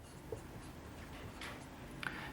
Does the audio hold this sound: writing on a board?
yes